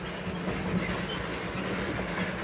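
Himalayan toy train pulled by a B-class engine, its wagons rumbling steadily along the track in a close, continuous roar with faint rhythmic wheel clatter and no talk.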